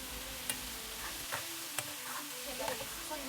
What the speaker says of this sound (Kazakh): Ал енді майымыз қызғанда біртіндеп порциялап, аз-аздап қуырып алыңыз.